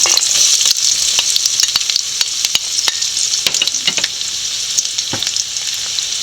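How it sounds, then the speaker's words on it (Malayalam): Shallots fry loudly in hot oil for a prawn curry, a dense steady sizzle with scattered crackles and pops, no voices. "എണ്ണ നല്ലപോലെ ചൂടായിട്ടുണ്ട് അതിലോട്ട് ചെറിയ ഉള്ളി ഇട്ട് കൊടുക്കാം"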